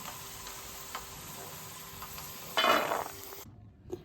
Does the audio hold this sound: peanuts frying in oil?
yes